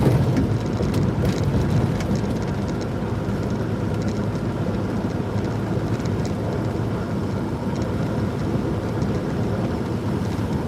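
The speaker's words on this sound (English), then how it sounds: "we got a light rain, it's cold, rain, ice, sleet" Light, cold rain mixed with ice and sleet falls in North Georgia as a dense, unbroken hiss that holds steady and fairly loud throughout, with no talking.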